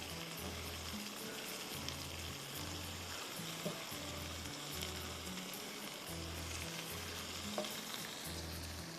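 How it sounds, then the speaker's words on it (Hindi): Continuous soft sizzling and crackling of a tempering of curry leaves, red chilies, mustard seeds and cumin frying in hot oil, faint and steady with a low periodic hum underneath and no voices. "सारा हमने बघार डाल दिया और क्या खुशबू आ रही है"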